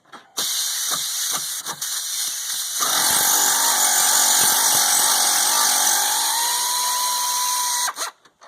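Power tool running on the bolts of the ABS unit on a Ford F250 dually, a steady loud whirring drone with a hiss, starting after a few short bursts and holding for several seconds before cutting off.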